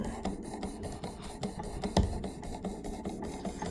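A Benchmade Claymore knife blade rasps back and forth across a fine 800-grit abrasive in steady, repeated strokes, a close, gritty scraping with no voices.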